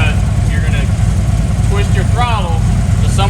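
A motorcycle fitted with a Recluse clutch idles in neutral at about 1,000 RPM, a loud steady low rumble running throughout while people talk over it.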